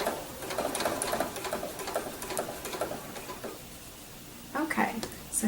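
A sewing machine runs a blanket stitch along a quilt binding, its rapid clicking needle going over a seam join at close range. A brief pause and some handling noise follow, with no talking.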